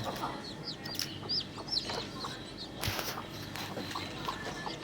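Native country hen with her freshly hatched chicks, eighteen in all, heard as scattered cheeping and soft clucking at close range, fairly quiet and continuous with some rustling movement.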